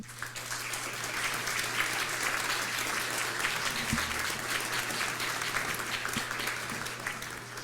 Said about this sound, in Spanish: Les pido un aplauso para nuestro homenajeado.